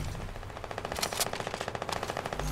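Suppressed SMG in Fortnite firing a fast, even burst of muffled shots, about two dozen rapid rounds in a row, fairly faint and close.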